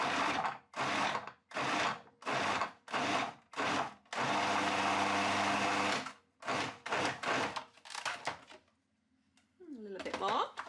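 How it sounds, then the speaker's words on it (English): A food processor minces elephant garlic in short repeated pulses, then one longer continuous whirring run, followed by a few quick bursts; a voice speaks briefly near the end. "I'm going to mince the elephant garlic in my food processor"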